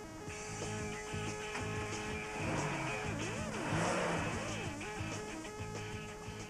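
A small car starts up and drives off, its engine note rising and swelling as it accelerates, mixed with a background melody and faint voices.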